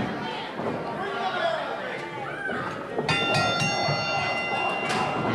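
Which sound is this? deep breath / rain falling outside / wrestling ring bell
wrestling ring bell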